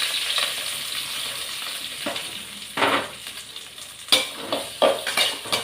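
Onions, curry leaves and green chillies sautéing in a pan with mustard seeds, sizzling steadily with several louder bursts of spatula stirring and scraping, the strongest toward the end.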